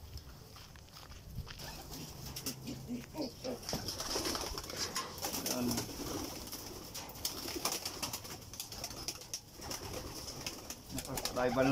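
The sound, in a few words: pigeons cooing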